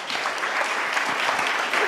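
A keynote audience claps steadily in a brief, dense burst of applause that stays even and fairly loud throughout.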